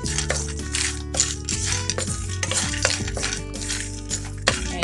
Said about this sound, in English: Along with this, I'm going to add the roasted and peeled peanuts.